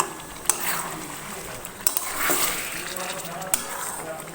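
Spices being stirred into chicken in a cooking pot for chicken kosha, a Bengali dish, with a few soft clinks of a spoon against the metal pot over a faint, steady background hiss.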